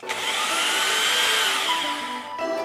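A large converted electric drill runs steadily in second gear at reduced speed, a loud continuous whirring motor hum that holds for over two seconds before briefly dipping near the end.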